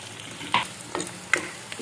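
Garlic sizzles in hot oil with mustard seeds in a pan for poondu kulambu while a spoon scrapes and stirs it in a few distinct strokes over a steady frying hiss.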